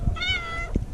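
A cat at the ancient site of Petra in Jordan gives a single short, close meow, heard alone with faint background noise.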